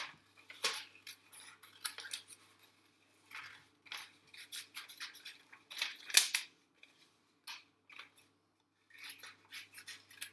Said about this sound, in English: what I'm going to do with that poem now is actually cut around